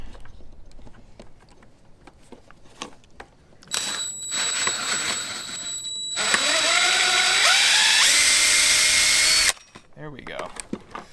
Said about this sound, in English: So what we're gonna do is we're gonna try drilling it out.